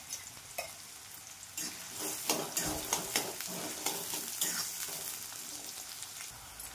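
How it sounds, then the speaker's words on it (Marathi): Chopped onion hits hot oil in a pan with a loud, steady sizzle, broken by repeated scraping stirs of a spatula; no one speaks. "चिरून घेतलेला कांदा, तेल टाकलेले आहे आणि मस्तपैकी तापलेले पण आहे। चला फ्राय करणार"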